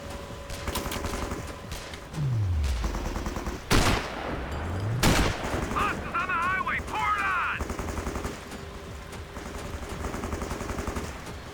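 Gunfire in the video game Sniper Ghost Warrior crackles in bursts amid whooshing effects and mechanical sounds, fairly loud and continuing through the scene.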